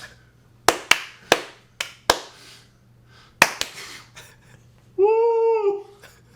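A few scattered hand claps, sharp and close, come one by one with uneven gaps and no steady rhythm, then a brief voiced cheer at the end during a casual podcast recording.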